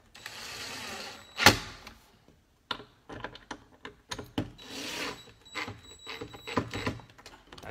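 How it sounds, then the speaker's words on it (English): Hand screwdriver driving 8-32 machine screws into a cabinet bar pull, heard as close, quiet ratcheting and scraping turns in short bursts with a sharp click near the start and brief pauses between twists. "all you have to do is use a screwdriver"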